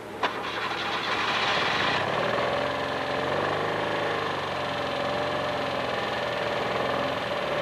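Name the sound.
engine of the ASMO self-stabilizing motorcycle starting and idling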